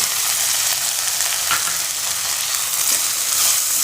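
A small onion sizzles in a pan with a spoonful of wet garlic chutney, giving a loud, constant, close frying hiss with a faint stir partway through and no talking.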